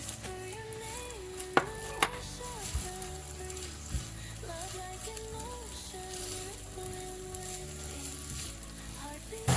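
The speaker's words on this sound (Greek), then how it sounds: "Σοτάρουμε το κρεμμυδάκι" Finely chopped onion sautés in a pan at a soft, steady sizzle, marked by a few sharp ticks and scrapes of stirring, beneath a faint tonal background.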